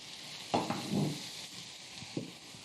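Zucchini cooks in a pan with a quiet, soft sizzle, broken by a few brief stirring scrapes and utensil taps.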